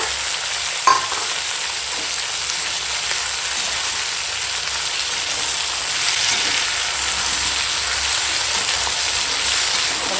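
Ginger-cumin paste and green chilies sizzle loudly and steadily in hot oil, with a brief clink near the start and no voices.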